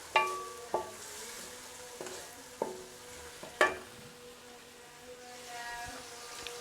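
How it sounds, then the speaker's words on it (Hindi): Tomatoes and onions fry in a pan while being stirred, a low steady sizzle broken by several sharp clinks and scrapes of the spoon against the pan, close and fairly quiet. "अल्हम्दुलिल्लाह टमाटर और प्याज हमारे फ्राई हो गए"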